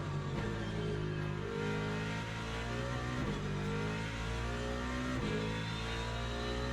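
Race car engine in a racing video game, a steady loud mid-pitched drone that holds throughout, with repeated small surges and dips as the car lifts and pushes through corners, no talk over it.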